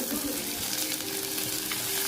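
Spices such as cinnamon, onion, dried and green chillies and curry leaves tempering for a mutton curry, a loud continuous oily sizzle with faint stirring, close at hand.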